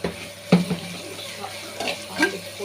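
Onions and green chillies frying for an aloo palya, a low steady sizzle with a few scraping stirs and spoon knocks on the pan, close by and fairly quiet, with no talking.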